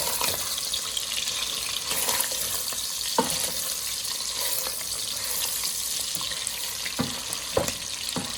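Meat fries in a pan of spattering grease for a copycat Zuppa Toscana soup, giving a constant close sizzling hiss with occasional sharp pops and scrapes, and no voices.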